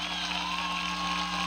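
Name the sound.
applause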